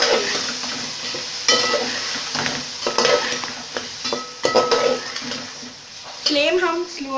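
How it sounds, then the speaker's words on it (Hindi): Whole garam masala, salt, red chilli, crushed chilli powder, turmeric and cumin roasting in a pan over a slow flame, a sizzle with repeated scraping stirs and metallic clinks, and a voice talking over parts of it. "अब इसके अंदर हम नमक, लाल मिर्च डालेंगे, साबुत गरम मसाला जो हमने लिया था और क्रश चिली पाउडर, हल्दी और ज़ीरा डाल के अच्छी तरह भूनेंगे"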